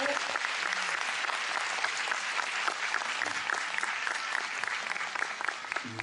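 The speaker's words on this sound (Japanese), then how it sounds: "大きな拍手をお願いします" A concert audience gives a singer a big round of applause, with loud, continuous clapping and scattered crowd voices filling the hall.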